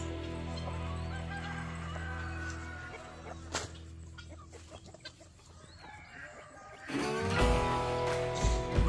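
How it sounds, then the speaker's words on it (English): Chicken-like clucking and squawking from a chicken and guinea fowl hybrid, with rustling movement and a burst of louder bird calls toward the end. "That's a half chicken, half guinea"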